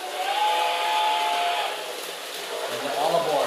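A New Bright holiday Christmas toy train plays its steam whistle sound effect, a brief hissy whistle tone at moderate loudness, with a voice speaking over part of it.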